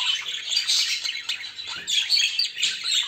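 A budgerigar chirps and twitters in a quick, bright, near-continuous stream, close and fairly loud, with no talk.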